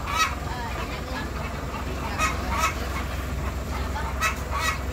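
Several short squawking rooster calls ring out over a steady outdoor background rumble, spaced unevenly across the stretch.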